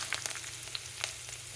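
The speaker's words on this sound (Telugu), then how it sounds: "తర్వాత ఇందులో మనం కరివేపాకు, ఎండుమిరపకాయలు యాడ్ చేసుకోవాలి" Curry leaves and dried red chillies frying in a tempering for an ivy gourd fry, a close crackling sizzle with sharp little pops scattered over a steady hiss.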